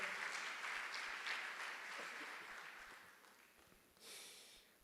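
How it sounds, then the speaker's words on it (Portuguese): A church congregation applauding during a Pentecostal sermon, a dense sustained wash of clapping that gradually fades, then a brief fresh burst near the end. "Dê uma salva de palmas ao Senhor"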